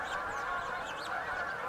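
Wild birds along a river, likely geese, honk continuously in a dense, overlapping chorus heard from a moderate distance.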